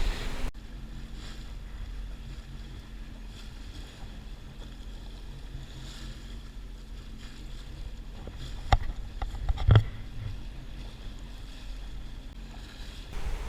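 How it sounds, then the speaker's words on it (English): A boat motors slowly through shallow reef and islands near Palm Beach, heading into Shellwater Bay. Its engine gives a steady, moderate drone with a couple of brief knocks or splashes partway through. "And now we manoeuvre our way through the various bits of reef and islands and into Shellwater Bay."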